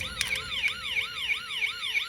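A battery-powered Technopark toy police car plays its electronic siren, a tinny, wailing tone that rises and falls in a fast repeating cycle, close and clear, preceded by a couple of faint button clicks.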